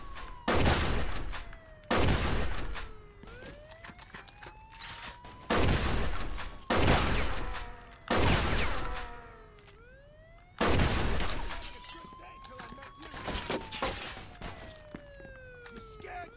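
Gunfire in the Mafia 2 video game comes in several loud bursts of shots separated by short gaps, while a police siren wails and falls in the background and voices speak briefly.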